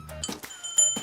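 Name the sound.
small bell ringing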